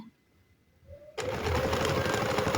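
A sewing machine runs steadily at close range while piping is stitched on a garment, starting abruptly after a quiet moment and continuing as a continuous whirring drone.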